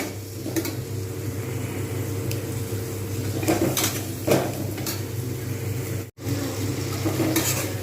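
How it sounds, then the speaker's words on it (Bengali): Curry masala for a pomfret fish curry fried and stirred in oil in a pan, a steady low sizzle with occasional spoon scrapes against the metal, close and continuous with a brief dropout near the end. "এরকমভাবে কষিয়ে যেতে হবে"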